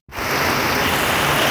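Heavy monsoon rain pouring down in the Konkan countryside, a loud dense roar of drops that starts abruptly and holds steady and close for the whole stretch.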